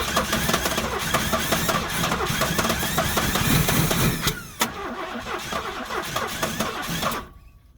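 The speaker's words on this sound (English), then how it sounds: "You just want to crank it over and I'll run the throttle." A 1968 Buick Wildcat 430 V8, sitting for ten years, cranks and catches into a loud, rough near running roar that sputters and drops before cutting off abruptly at the end.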